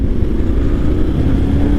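Engine of a 2021 Yamaha Tenere motorcycle held in fourth gear at around 33 mph, a steady close low rumble with constant loudness throughout, no voices.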